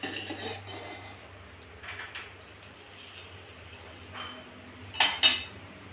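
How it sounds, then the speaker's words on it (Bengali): Oil goes into a cooking pot for handi chicken, followed by soft, faint scraping and a couple of sharper metallic clinks near the end, close and quiet with no voices. "এবারে অবশিষ্ট যে তেলটা আছে এটা আমি এই হাঁড়ির মধ্যে দিলাম।"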